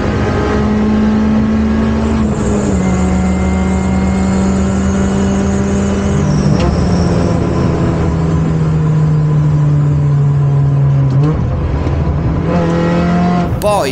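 Mini Cooper S R53 engine heard from inside the car, a loud steady supercharged drone that holds and shifts pitch in stages as it revs through the gears, with no talking.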